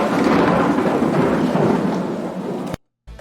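An AI-generated thunder sound effect: a loud, deep rumbling roll mixed with rain that lasts nearly three seconds, then cuts off abruptly to silence before a faint tail.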